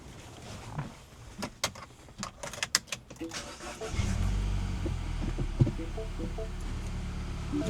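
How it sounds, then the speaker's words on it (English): Clicks and clunks give way to a 2014 MINI Paceman Cooper S engine starting, then running with a steady low hum close by. "I'm gonna start the car right now. You can hear the car running."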